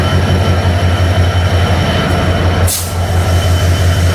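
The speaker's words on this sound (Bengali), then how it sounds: "ছয় হাজার 601 লোকোমোটিভ নিয়ে এই ট্রেন যাত্রা করলো 300 কিলোমিটার কোচবিহার থেকে চিলাহাটি।" The Simanta Express passenger train, hauled by locomotive 6601 between Khulna and Chilahati, rumbles steadily with a loud, continuous low drone and rolling wheel noise, plus a brief hiss partway through.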